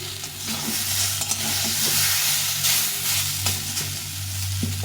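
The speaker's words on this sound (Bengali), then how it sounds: "টমেটোটা একটু ভেজে নেবো" Continuous loud sizzle and crackle of tomato frying in a pan, with scraping stirring strokes and a low steady hum underneath.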